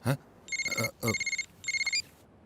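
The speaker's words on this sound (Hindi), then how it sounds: "Phone uncle." A telephone rings with three repeated electronic trilling bursts, each about half a second long, clear and close, with brief speech at the start.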